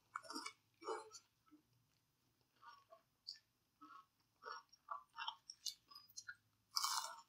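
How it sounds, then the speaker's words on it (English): Crunchy, well-seasoned fried chicken sandwich bitten and chewed close up, a series of sharp crisp crunches and chewing bursts with short pauses between, no talking. "Well seasoned chicken sandwich, very crunchy."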